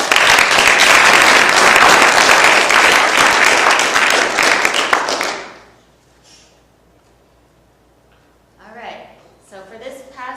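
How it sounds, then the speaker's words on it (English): Audience applause fills a graduation ceremony hall, a loud, dense wash of many hands that runs steadily for about five seconds and then cuts off, followed by quiet and a speaker's voice. "Let's give them a round of applause."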